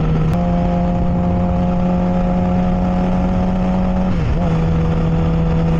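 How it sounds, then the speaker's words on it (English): A hot rod drives past with a loud, steady engine drone that dips briefly in pitch partway through, heard close and continuous. "Oh, interesting hot rod."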